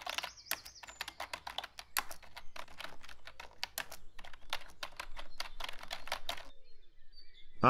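Quick bursts of keystrokes on a computer keyboard as a title is typed while setting up a Dribbble account: close, crisp, fairly steady clicks with short pauses, ending in a brief mouse-like click.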